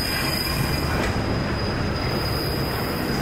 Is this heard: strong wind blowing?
no